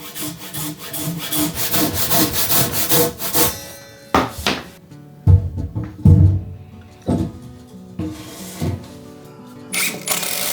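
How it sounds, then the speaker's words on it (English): Hand saw notching a wooden floor beam, rhythmic rasping strokes close and loud at first, then scattered knocks and rubbing scrapes with short quiet gaps between. "I mark the line based on the spot and notch them out."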